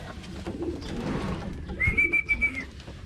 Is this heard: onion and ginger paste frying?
no